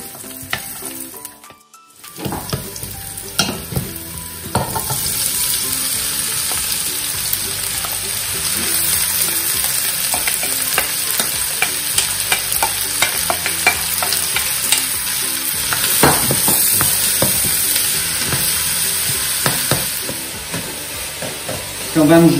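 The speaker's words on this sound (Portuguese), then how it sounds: "Quando a banha já estiver derretida, colocamos o alho picado" Chopped garlic fries in melted lard with a loud, continuous close-up sizzle. Frequent clicking and scraping stirs of a utensil against the pan run through it, and a brief quiet gap comes near the start.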